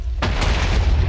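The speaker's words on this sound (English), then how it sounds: "Man, explosion's not that good." A spell explosion in Minecraft goes off as one sudden deep boom, then a loud rumbling blast fills the rest of the short moment.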